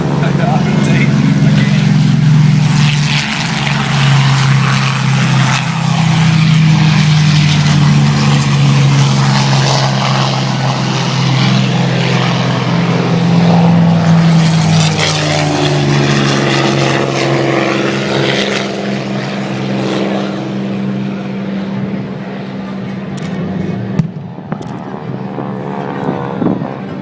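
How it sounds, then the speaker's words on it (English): At an airshow in Wanaka, a V1 flying bomb replica is run up for launch, giving a loud, rough propeller-like engine drone with shifting pitch that holds for nearly half a minute, with people talking over it. "I think they're trying to launch that V1 over there."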